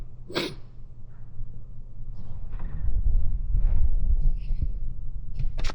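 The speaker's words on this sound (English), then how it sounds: "I have to sneeze too." One sharp, loud sneeze bursts out near the start, followed by a low, steady rumble and faint, scattered rustling.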